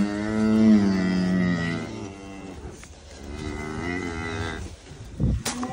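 A cow or calf in a calving pen gives long, close mooing calls, two drawn-out moos in a row, with a brief knock or bump near the end.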